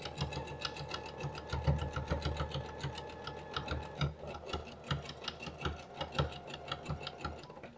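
A domestic sewing machine stitches along terry towel fabric, its rapid mechanical chatter close and moderately quiet, with a few brief pauses and changes in pace.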